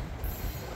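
Norfolk Southern locomotive NS3990, built in 2004 as leased unit CEFX 1034, rolling on the rails: a steady loud rumble of wheels on track with a high squealing tone running over it, close by and uninterrupted.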